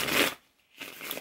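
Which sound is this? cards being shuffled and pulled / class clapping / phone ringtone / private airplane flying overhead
cards being shuffled and pulled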